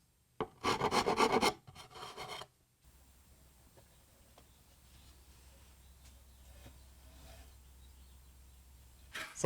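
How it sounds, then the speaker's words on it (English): Rasp rounding off the ends of a wooden chair part, loud rough scraping strokes in a quick burst, then a quiet room with faint small taps. "you can use other tools like a rasp to do exactly the same thing"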